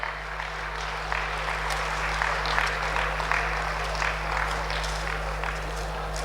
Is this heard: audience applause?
yes